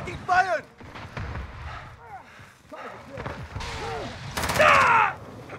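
Gunfire in Call of Duty Modern Warfare 2019 on the Atlas Superstore map, scattered sharp shots and bursts under frequent voices talking and calling out during the match.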